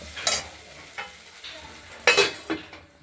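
Chopped onion stalks frying in oil in a wok are stirred, a soft low sizzle broken by several sharp scraping and clattering strokes of the spatula against the pan.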